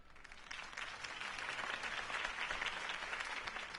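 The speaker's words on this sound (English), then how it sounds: "could have heard that applause" A crowd applauds continuously in a Batman video game scene, a dense steady wash of clapping that holds at moderate volume without a break.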